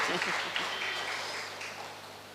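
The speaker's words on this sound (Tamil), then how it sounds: "கொஞ்சம் கைதட்டுங்க" Audience clapping at a Tamil pattimanram debate event, a steady wash of applause throughout the short stretch with a faint voice underneath.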